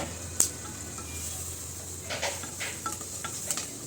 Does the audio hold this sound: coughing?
no